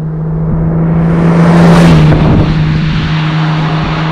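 A 1957 Lancia Aurelia B24 S convertible drives hard, its steady engine drone swelling to a louder, brighter peak midway through before easing back, heard close and continuous with no talking.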